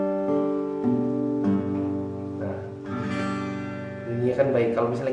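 A guitar chord is strummed and rings out with clean, sustained notes, then strummed again with a few more chords and a brief strum flurry near the end, close and clear, with no talking.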